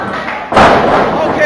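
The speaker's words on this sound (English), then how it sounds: "Okay, good suplex by Corey." A single heavy thud lands as a wrestler is slammed onto the mat by a suplex, loud and close, followed by lingering arena noise and commentary.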